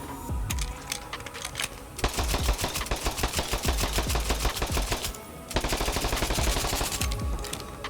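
A Borderlands 3 legendary weapon fires, rapid sharp bursts alternating with spaced single shots, loud and continuous with brief pauses between strings.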